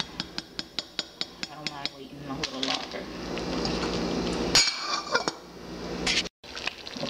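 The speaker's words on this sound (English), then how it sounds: "I'm still stirring the grits." A spoon stirs grits in a pot, first with a run of evenly spaced metallic clinks against the side, then a continuous scraping and swishing through the thick creamy grits, with a few louder knocks near the end.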